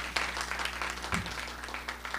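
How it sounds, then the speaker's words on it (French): A live audience claps for co-host Jamilah Maiga at the Bonjour 2014 show, giving a faint, distant, steady patter of applause that runs throughout. "On applaudit pour Jamila."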